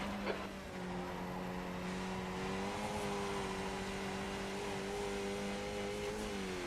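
A race car engine in the iRacing sim at Zolder drones steadily, its pitch climbing slowly as the revs rise, a constant mechanical tone with no talk.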